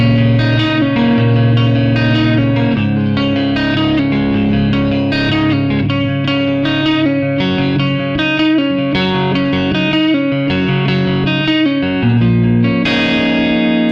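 Distorted electric guitar in standard tuning plays a pre-chorus picking pattern, a steady run of rapid picked notes with effects and reverb, loud and continuous with no talking.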